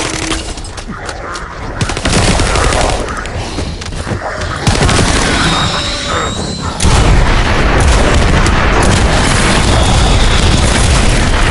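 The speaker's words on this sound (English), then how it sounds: "Why are there so many bombs?" Dense barrage of bomb explosions in the video game The First Descendant, loud booming blasts with crackling bursts and gunfire-like pops running continuously, heavy and close throughout with a brief voice underneath.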